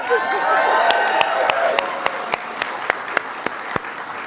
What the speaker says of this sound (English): Can we please applaud Sophia?